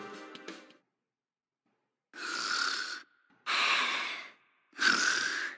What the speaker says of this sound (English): Yep, Kamaro snores.